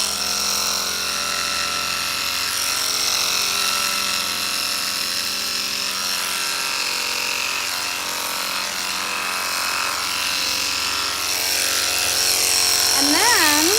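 Electric horse clippers buzz steadily and close up as they shear the length of a horse's coat down to the blade setting, a continuous motor whine with a voice speaking over it.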